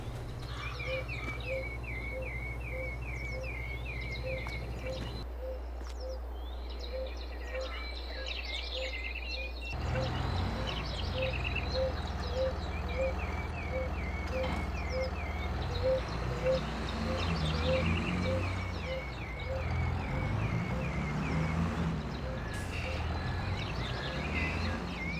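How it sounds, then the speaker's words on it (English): Birds chirp and call repeatedly in a steady, rhythmic pattern near a nest in the Farming Simulator 22 video game, over a constant low ambient hum, with a short quieter gap partway through. "Even with that noisy old birds, I think it must be a bird nest there."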